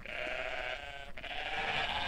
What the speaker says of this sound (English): there's a button for making noise as a sheep. Or as a long-haired ram, rather.